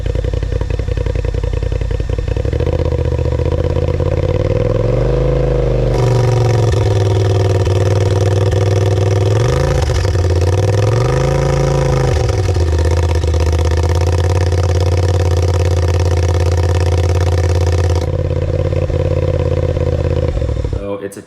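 An off-road side-by-side's aftermarket dual-valve exhaust rumbles loudly up close, revving up and down twice before settling into a steady, throaty idle.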